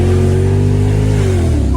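A powerful BMW 7 Series engine revs hard and loud, its pitch climbing then dropping slightly in one sustained, growling roar.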